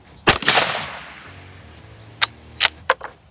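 A single sharp rifle shot fired at a target cracks loudly at close range and decays into a short echo, followed by a few fainter clicks and knocks.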